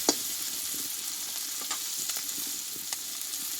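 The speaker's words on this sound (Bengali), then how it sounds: "দেখো এখানে কিন্তু চিংড়ি মাছটা আমার বন্ধুরা ভাজা হয়ে গেছে" Shrimp frying in spice paste: a steady, fairly quiet sizzle with a few faint pops and stirring scrapes.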